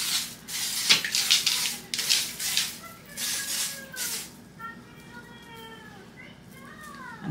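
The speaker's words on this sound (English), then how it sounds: "We're gonna put some holding spray on there to basically hold the curls." A can of holding hairspray hisses onto freshly curled hair in several close, short spray bursts, followed by quieter rustling, with a voice talking faintly.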